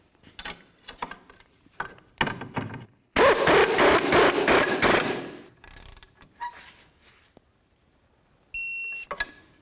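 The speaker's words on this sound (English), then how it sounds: "we're going to continue on to tightening up these bolts. First we'll snug them and then we'll torque them to 73 foot-pounds." Wrench work on the rear shock bolts of a 2007-17 Jeep Compass suspension, close mechanical clicks and ratcheting in bursts, with a loud sustained stretch of tool noise in the middle and a brief steady beep near the end.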